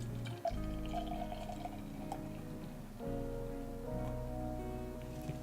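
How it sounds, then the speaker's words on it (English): Witbier from Wellington Brewery's 3 Weeks Notice can poured into an Osthaus chalice-style glass, a soft steady trickle and gurgle of liquid filling the glass up close, with no talking. "Pouring it into my Osthaus chalice style glass"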